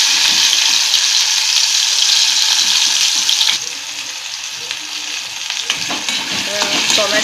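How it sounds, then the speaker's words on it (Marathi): Tomatoes sizzling and being stirred in a pan for a Bombay duck curry, with a loud, close frying hiss and scraping stirs, and the sizzle easing partway through. "हलवून घ्यायचं. टोमॅटो जरा नरम झाले पाहिजे."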